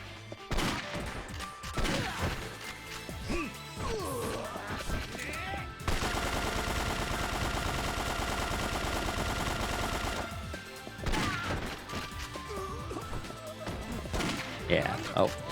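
Gunfire in the Yakuza 3 video game, a dense sustained burst of rapid shots lasting several seconds in the middle, surrounded by sporadic impacts and someone talking over the game sound.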